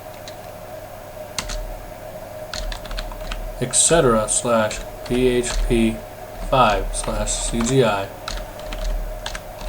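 Typing on a computer keyboard, a close run of light clicking keys, heard under someone talking over a steady electronic hum.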